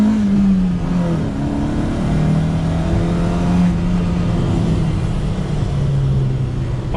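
A modified Honda City VTEC Type 2 engine revs close by toward 8000 RPM, a loud continuous drone with wavering pitch that holds high and sustained, with no one speaking.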